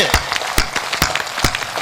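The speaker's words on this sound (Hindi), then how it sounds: "तालियां घनघोर मिले मां के सम्मान में" An audience at a Hindi poetry gathering in Sujangarh applauds, a short burst of dense clapping with several louder individual claps close by.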